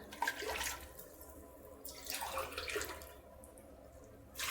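Water running into a cooking pot while sambar is prepared in a home kitchen, a quiet steady pour in short surges with faint background hiss and no talk.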